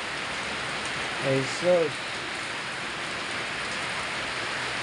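Heavy rain pours down in a steady, dense hiss that fills the whole stretch, with a voice briefly exclaiming near the start over the downpour.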